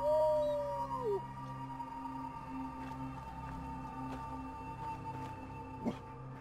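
The dog Dogmeat in Fallout 4 lets out a long, falling howl at the start, faint over a low humming background, followed by quiet scattered clicks.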